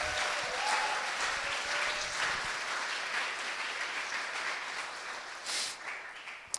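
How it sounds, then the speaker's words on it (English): An audience gives a performer another round of applause, with steady crowd clapping holding throughout and a brief cheer or whoop standing out near the end. "Give her another round of applause"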